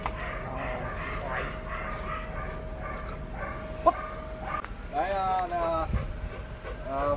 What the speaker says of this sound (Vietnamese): Đây là đang chơi với chú chó.